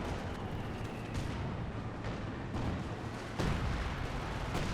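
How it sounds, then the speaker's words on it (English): Artillery fire in the World War II strategy game Company of Heroes 2, a dense continuous rumble of battle with several sharp booming impacts standing out, loud and close throughout. "Oh, damn, that's a lot of good shots from artillery."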